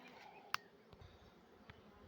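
Faint, low buzzing of a honeybee in a quiet space while a queen bee is introduced to a hive, with a sharp click partway through and another soft knock near the end.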